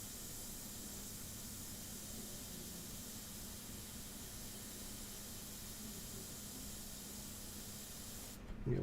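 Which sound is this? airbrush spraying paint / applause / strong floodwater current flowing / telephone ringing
airbrush spraying paint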